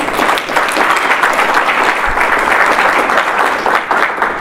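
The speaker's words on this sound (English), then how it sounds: "please give a warm round of applause to Maria Souza Roundtree" A seminar audience on writing skills gives a steady, loud round of applause, dense clapping that holds evenly throughout with no talk over it.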